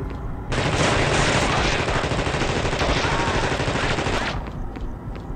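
Gunfire in The Thing video game: a loud, sustained burst of rapid automatic shots lasting about four seconds, then cutting off abruptly into quieter background.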